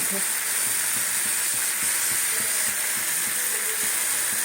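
Mustard seeds sizzle in hot oil in a pan while a mixed vegetable dish is being cooked, giving a steady, close hiss with faint crackling and no voices.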